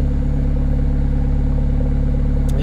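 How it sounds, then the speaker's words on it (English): A 2019 Renault Megane RS 280 Cup Chassis idles with a steady, deep burble from its twin-pipe exhaust, loud and close, with no talking. "there's this lovely burble from the twin pipe exhaust"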